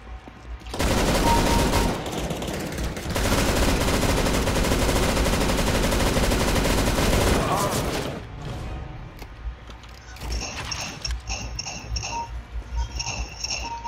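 Rapid shotgun and gunfire blasts from a CS:GO match keep up a dense, loud barrage for about seven seconds, then fade to scattered lighter clicks and clinks.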